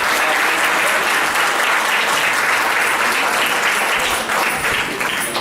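Loud, sustained applause from a church anniversary crowd, continuous clapping that stays full throughout before easing slightly at the end.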